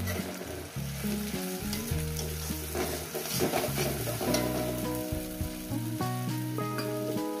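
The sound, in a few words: spice paste and rinse water added to fried onions, sizzling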